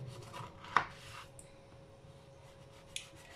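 A knife slices through warm logs of Moroccan fakas dough, giving two faint, soft cuts about two seconds apart against a quiet room.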